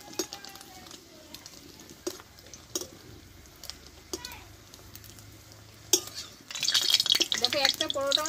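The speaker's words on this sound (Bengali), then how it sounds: "দেখো একটা পরোটা আমার ভাজা হয়ে গেল" Egg paratha fries in a pan with a soft background sizzle, punctuated by scattered stirring scrapes and utensil taps, then a louder, brighter burst of frying near the end.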